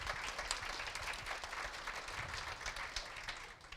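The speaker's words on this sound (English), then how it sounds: "we need to give a big applause to Raquel" A conference audience at a teacher-education plenary session applauds a presenter, a steady, dense patter of many hands clapping throughout at moderate volume with no voices over it.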